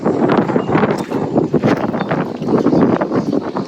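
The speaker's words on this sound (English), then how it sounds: "It's really windy, guys, so you might not be able to hear me" Strong outdoor wind buffets the microphone during boat work, a loud, continuous low rumble with gusty surges that rise and fall throughout.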